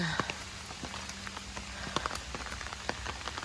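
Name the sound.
rain falling on a mountain hiking trail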